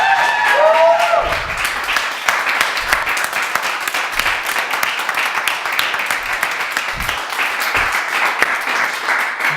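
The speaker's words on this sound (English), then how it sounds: "one more round of applause." A comedy club audience applauds comedian Dion Arnold, a dense, sustained wash of clapping that stays loud and even throughout, with a voice briefly audible at the start.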